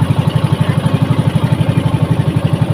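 Small compressor engine running aboard a boat off Calaguas Island, a loud, close, steady chugging with an even rapid pulse and no talking.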